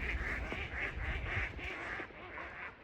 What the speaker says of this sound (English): Well, we got some duck action going on.